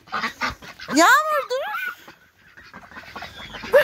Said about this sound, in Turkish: Ördekler mi var? Ördekler.